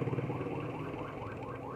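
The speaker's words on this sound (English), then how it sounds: "Ambulance." An ambulance siren wails through street traffic in Angeles City, Philippines, with a steady repeating rise-and-fall over engine rumble, fairly near and continuous throughout.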